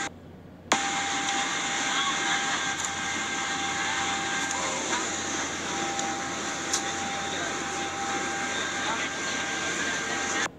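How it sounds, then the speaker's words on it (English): Steady broadband roar of an airliner's jet engines during takeoff, heard from inside the cabin, loud and continuous with a sustained whine throughout. "Camera, you can watch the takeoff."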